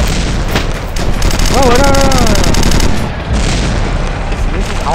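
Rapid automatic gunfire rattles loudly in Red Crucible: Firestorm amid battle noise and booms, with a voice exclaiming briefly partway through.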